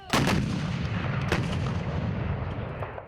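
Heavy artillery booms out during a military training exercise: two quick blasts close together, then another, with rumbling echoes rolling on between the shots.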